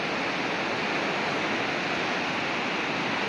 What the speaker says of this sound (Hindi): देखिए बाढ़ का नज़ारा, आवाज़ें कैसे दे रहा है, ये खतरनाक एकदम